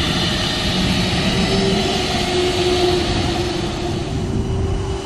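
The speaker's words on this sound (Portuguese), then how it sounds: "Vai virar a turbina bem pra cá." A jet airliner's engines roar steadily and loudly close by at St Maarten airport, a sustained broadband rumble with a whining tone running throughout, heard alone.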